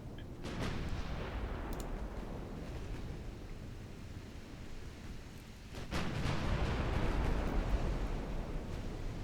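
Naval gunfire from twin 9.3-inch ship guns in a video game battle: a heavy, rumbling broadband roar that swells and sustains, with a second surge of booming blasts partway through, loud and dense with no talk.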